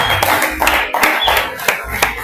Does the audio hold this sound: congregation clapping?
yes